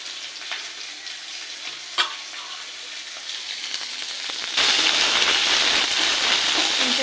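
Garlic, onion, ginger and green chili go into hot oil. A quiet pan with a few light clinks bursts into a loud, continuous sizzle partway through, then keeps frying steadily to the end.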